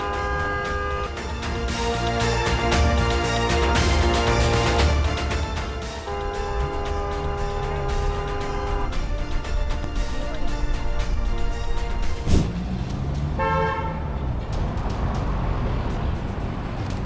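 A Mercedes car horn honks in traffic with repeated loud tones that sound over music-like tonal layers and road noise, and blasts come again near the end.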